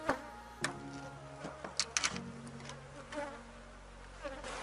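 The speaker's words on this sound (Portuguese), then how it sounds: "Isso aqui, gente, tá um super enxame." Honeybees of a freshly split, very strong swarm buzzing in and around the hive, a close steady drone with individual bees darting past the ear and occasional knocks of hive handling.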